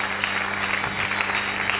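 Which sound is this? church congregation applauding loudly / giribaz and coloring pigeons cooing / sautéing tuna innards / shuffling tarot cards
church congregation applauding loudly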